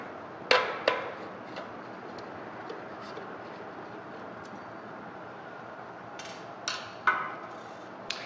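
A small screwdriver undoing the last screw on the bottom of a Macpower Taurus hard drive enclosure, heard as a few sharp close metallic clicks and taps over a steady faint hiss, with no speech.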